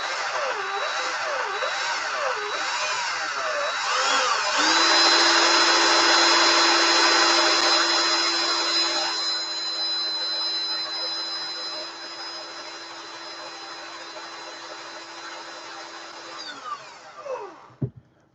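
A power drill twisting coil wire for a Clapton coil whines steadily for a long stretch, its pitch rising as it speeds up, then holding and slowing before cutting off at the end.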